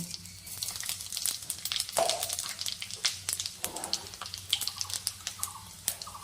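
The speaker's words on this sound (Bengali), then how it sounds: "আমার তেল গরম হয়ে গেছে, আমি ফোড়নে 5 ফোড়ন দিয়ে দিলাম।" Panch phoron five-spice seeds sizzle in hot mustard oil, topped up over oil already used for frying fish, while cooking a pumpkin, Malabar spinach and shrimp dish: a steady, close hiss dotted with sharp popping crackles throughout.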